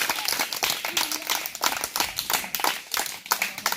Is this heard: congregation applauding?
yes